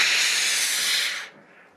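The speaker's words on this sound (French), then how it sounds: "repasser avec de la vapeur en tirant un maximum" A steam iron releases a strong, continuous hiss of steam over a fabric rat-tail cord for about a second, then the burst cuts off and fades to a faint residual hiss.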